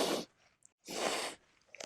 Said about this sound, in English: this one sometimes make me sneeze when I'm doing my makeup. This is translucent powder